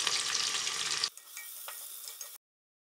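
Sliced onions and two green chilies sauté in a pan: a dense, loud sizzle with stirring that cuts to a quieter crackle partway through, then silence near the end.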